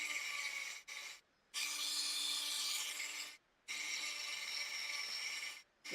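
Close, rhythmic rasping strokes of sandpaper on 3D-printed PLA plastic, three long passes separated by brief pauses, with no talking.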